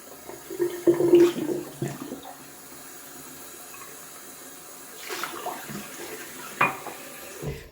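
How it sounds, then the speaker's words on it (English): Short bursts of running water splash intermittently as a shaving mug is rinsed under a tap, with quiet pauses between. "Just gonna rinse up my little shaving mug"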